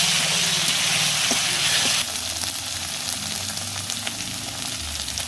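Onions and chillies fry in a pan for a chicken curry, a loud, close, continuous sizzle and bubble of hot oil that drops a little in level partway through, with no speech.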